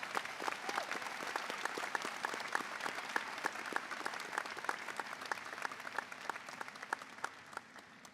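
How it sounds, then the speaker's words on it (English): Steady, moderately distant applause from a ceremony audience honoring a medical school class in white coats, many hands clapping evenly for the whole stretch. "Let's give the class another round of applause."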